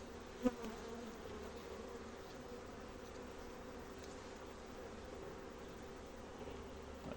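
Honey bees in a hive opened for a late-January inspection give a faint, steady low buzz throughout, with one brief soft knock near the start.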